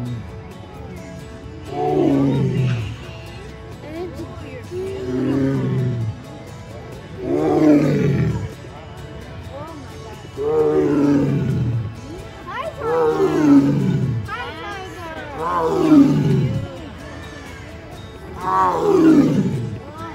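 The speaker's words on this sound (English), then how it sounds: "This tiger was roaring." A tiger roars repeatedly, deep drawn-out bellows coming roughly every two to three seconds, loud and close, with voices talking in the background.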